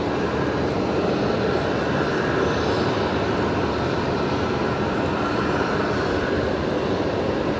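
A Qantas Airbus A330 at Brisbane Airport holds a sustained engine run-up near Qantas Hangar 3, a broad continuous roar that stays steady and loud throughout.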